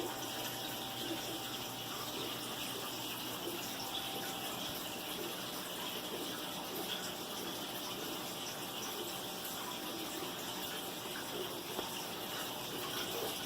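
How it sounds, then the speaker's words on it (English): Water from a fountain built around a whisper filter in a bullfrog tank trickles and splashes at a constant low level, a faint steady gush that runs without a break and with no voices. "That's just a whisper filter that I built the water fountain around."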